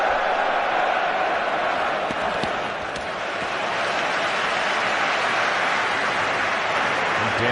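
A packed football stadium crowd roars and chants in support of England against Croatia in a Euro 2008 qualifier, a steady, loud, distant-sounding wall of massed voices that rarely dips.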